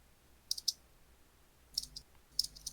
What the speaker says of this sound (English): And I'm hearing a keyboard.